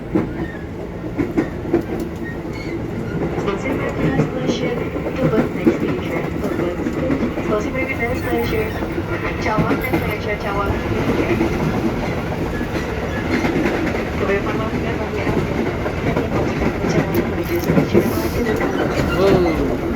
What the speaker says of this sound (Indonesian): udah masuk ke dalam stasiun, udah masuk ke dalam KRL